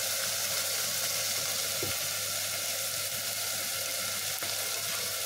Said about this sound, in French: Nos oignons, ils ont même un peu cramé parce que j'ai encore un peu du mal à doser avec cette plaque.